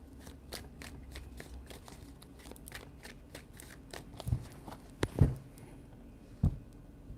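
Tarot cards being shuffled by hand, a soft papery riffle and rustle repeating in short bursts, close and quiet, with a few sharper taps and thumps near the end.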